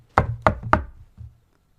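Three sharp knocks on a door in quick succession, loud and close, followed by a softer fourth knock after a short pause, with no voices.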